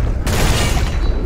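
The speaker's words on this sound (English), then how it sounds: "No, it's a pistol." A single loud, sharp pistol shot fires in a video game, a close burst with a brief ringing tail, and excited voices react around it.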